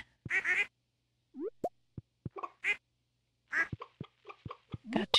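Several quick, nasal duck quacks from the video game Stardew Valley come in uneven bursts with short pops between them, clear and close against silence.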